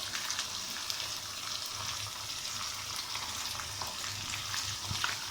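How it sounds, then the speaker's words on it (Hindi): Mince frying with spices in a pan, a dense continuous sizzle with light stirring scrapes, close up and steady with no talk. "अब ये हम 2 मिनट तकरीबन भूनेंगे"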